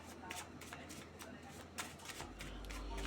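Tarot cards are shuffled and drawn in soft papery bursts, faint and close.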